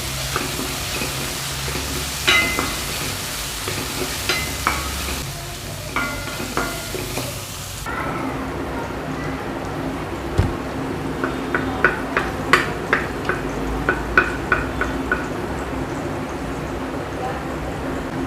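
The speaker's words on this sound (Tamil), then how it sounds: "இப்போ குடமிளகா வதங்கிடுச்சு." Capsicum sautéing with carrot and other vegetables for a lunchbox carrot rice, a steady pan sizzle with repeated clacking stirs of a spatula, heavier at first and then quieter with sharper clinks.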